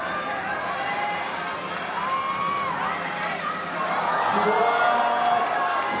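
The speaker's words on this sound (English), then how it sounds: "Crowd gasping along." Spectators at a lead climbing final in Seoul react together with a broad crowd murmur and rising cheers, a steady wash of distant voices that swells toward the end.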